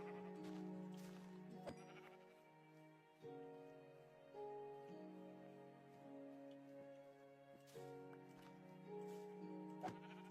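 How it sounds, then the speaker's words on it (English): Minecraft sheep bleating repeatedly, several drawn-out wavering baa calls in succession at moderate volume, with faint game background sounds and no talking. "come here, sheep."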